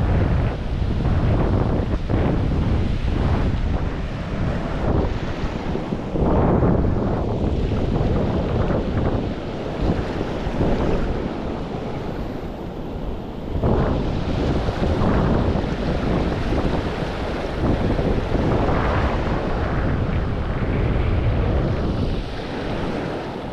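Sea surf and gusting wind buffet the microphone from a boat at sea, a loud, continuous broadband roar with swelling wave surges throughout and no talking.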